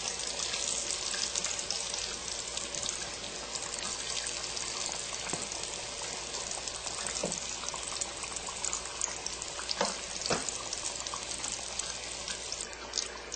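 Apple turnovers frying in a pan give a steady, dense hiss and sizzle throughout, loud and close, with a few faint clinks and pops, and no voices.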